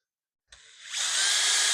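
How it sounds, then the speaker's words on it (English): A power drill drives a screw into an inground pool wall while a pool liner and steps are installed, starting after a short pause and rising into a steady, loud, close whine that holds without a break. "So I'm using my leg to push in on the back of the drill there."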